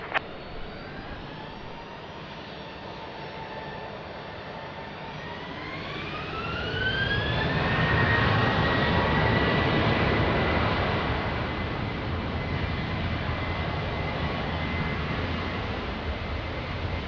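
An airliner takes off at Lisbon Airport: the jet engines spool up with a rising whine, then swell into a loud, steady roar that holds as the aircraft accelerates away, with no voices.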